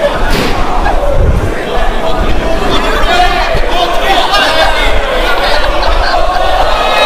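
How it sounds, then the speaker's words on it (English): A wrestling crowd at an SPW Singapore Championship bout chants loudly and steadily in support of Black Arrow, a dense, roaring wall of voices filling the hall, with commentary running over it. "And the crowd chanting firmly in support of Black Arrow"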